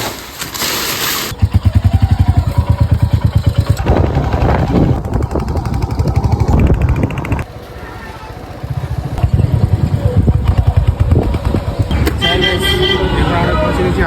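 A motorcycle rides along a busy road, its engine running steadily while car horns toot around it; a voice talks over much of the ride.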